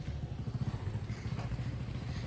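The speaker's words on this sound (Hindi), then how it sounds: "लेकिन ये बाइक से जा रहे हैं" Royal Enfield Bullet motorcycle engine running, a low, pulsing thump with a steady rhythm, heard fairly faint and alone.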